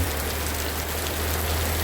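Steady, dense rain falls continuously after an amulet blessing ceremony for Luang Pu Suang watermelon-seed coins, a constant wash of drops on surfaces with a low hum beneath and no voices.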